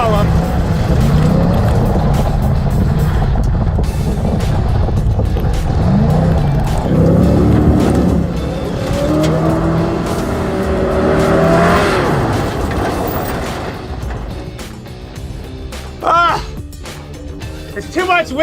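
Muscle truck driving a slalom course, its engine revving and surging steadily through the turns with tire and motor noise, while people talk over it.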